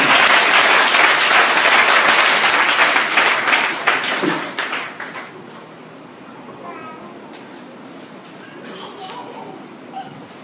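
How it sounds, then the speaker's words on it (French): A church congregation bursts into loud, sustained applause for the Lord, dense clapping that holds strong for several seconds before fading into scattered claps and murmuring voices. "Acclamons pour le Seigneur."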